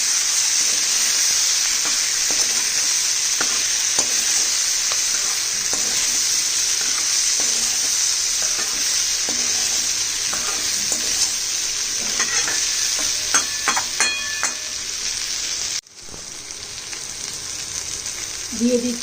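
Green chilies stirred into mixed vegetables frying in a pan, a steady loud sizzle with scraping spatula strokes throughout, briefly dipping near the end.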